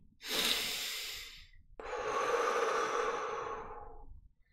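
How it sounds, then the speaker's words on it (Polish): Two slow breaths up close: a softer inhale through the nose, a brief pause, then a longer, airy exhale through the mouth. "Na przykład wykonać wdech nosem i wydech ustami."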